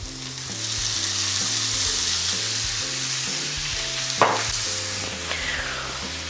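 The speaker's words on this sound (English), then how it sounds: "While our ground beef is cooking" Ground beef frying with onions in a pan, a loud continuous sizzle up close with a low rhythmic rumble beneath and a sharp clack of a utensil about two-thirds through, no voices.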